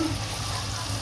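Luchi, puffed Bengali flatbread, frying in hot oil gives a steady, close sizzle that holds evenly through the short moment, with no talk over it.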